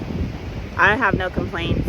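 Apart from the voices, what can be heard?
wind blowing into microphone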